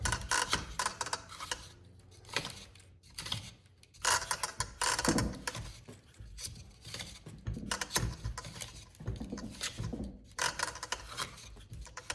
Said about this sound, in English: I'm holding on to this bigger ring, twisting a smaller ring, and it winds on the inside spool there